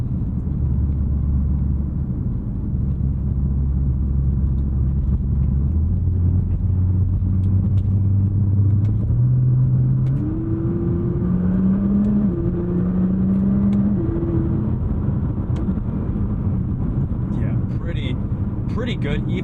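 A Nissan R35 GTR engine rumbling and revving as it climbs through quick gear shifts, steady stepped rises in pitch, heard under someone talking throughout.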